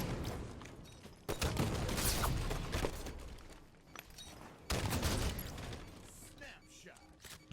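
Sniper rifle fire in Halo 5 multiplayer: two sharp, loud reports a few seconds apart, each followed by a decaying tail, mixed with game effects and a player talking.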